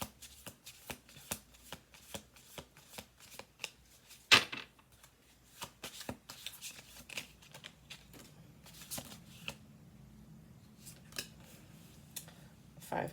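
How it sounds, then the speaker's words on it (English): Cards riffle-shuffled repeatedly for a tarot or oracle reading, giving a steady run of crisp, close flutters and snaps, with one sharper burst early on and a soft murmur of voice in the background. "We're going to do one more shuffle after this."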